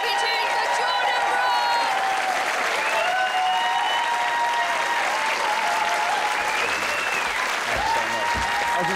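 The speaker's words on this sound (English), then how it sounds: "1, 2, 3, please start clapping your hands for Jordan Brookes!" Audience applause and clapping for a stand-up comedian: dense, loud, sustained clapping from a crowd filling the whole stretch, with a few faint voices and whoops mixed into the wash of hands.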